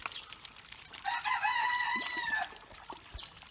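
A rooster crows loudly and close by in one long drawn-out call, with soft clucks from hens before and after.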